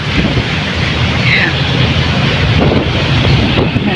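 Strong wind buffets the microphone outdoors in the heat, a loud, constant low roar and rumble filling the whole stretch with no break.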